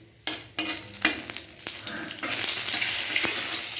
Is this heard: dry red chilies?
yes